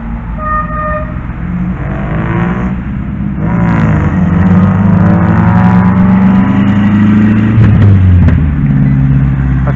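Road traffic passes nearby, with several cars droning by continuously and engines swelling loudly and steadily for several seconds, joined by a brief tone that sounds like a horn.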